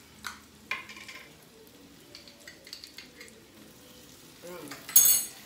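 Garlic fries in olive oil in a pan while making Japanese onion soup. A soft sizzle comes with scattered stirring clicks and utensil taps, ending in a louder burst of sizzling.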